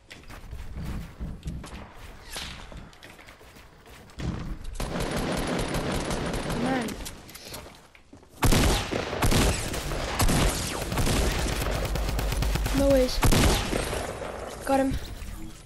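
Rapid automatic gunfire from a video game, bursts of loud crackling shots in long volleys with brief pauses between them, mixed with a few short gameplay tones and blips.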